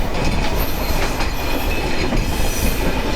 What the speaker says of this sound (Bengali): ট্রেন স্লো হয়ে যাচ্ছে